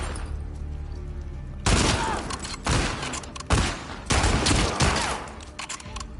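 Gunfire from The Last of Us Part 2 video game erupts in several loud bursts of shots, separated by short pauses, after a quieter stretch of game ambience.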